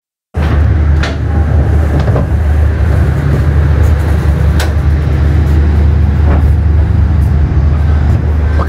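Inside the Kutojaya Selatan economy train in Indonesia, a continuous loud rumble of the moving carriage with low droning hum and occasional rattles and clunks, steady throughout.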